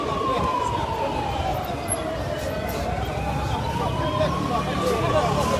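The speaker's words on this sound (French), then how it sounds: "l'ambulance va finalement pouvoir passer" An emergency siren sweeps slowly up and down at a street protest, moderately distant beneath a dense wash of crowd and street noise, with no clear voices.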